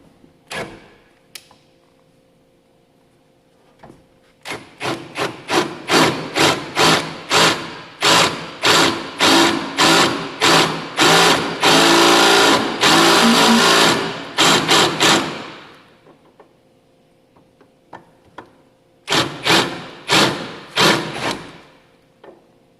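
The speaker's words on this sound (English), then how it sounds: "now we're going to drill our door pin out here" A power drill whirs in rapid bursts, drilling out a door pin on an OBS Ford truck door, revving and stopping repeatedly, loud and close, with quiet pauses before a final short run.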